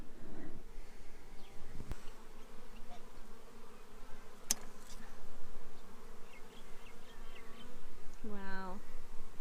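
Honey bees buzz steadily and fairly close around warped, joined-together hive frames. The drone continues throughout with soft handling noises and a brief sharp click partway through.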